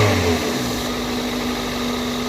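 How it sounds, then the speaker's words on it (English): A car engine fitted with new coil packs, spark plugs and a cold air intake revs, then drops back to a steady loud idle hum heard up close under the open hood, with no voices. "It sounds good when I rev it, you know, give it a throttle twisty."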